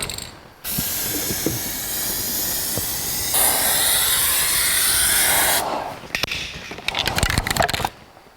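Spray gun applying a final coat of paint to the undercarriage of a 1982 Jeep CJ7 tub: a steady hissing spray runs for about five seconds, then gives way to short bursts and clicks.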